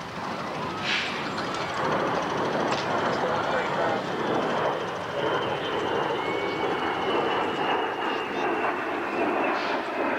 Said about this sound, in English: You think this is a KC-10 tanker then? It's either a KC-10 or the 135.